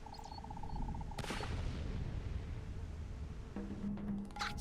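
A single sharp gunshot cracks out about a second in within the game Return to Mysterious Island, over a steady ambient bed, with a few electronic tones before and after.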